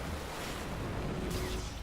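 Water in Anthem, a close, continuous wash like surf or lapping waves with a windy hiss, steady and fairly loud throughout the short stretch, no voices.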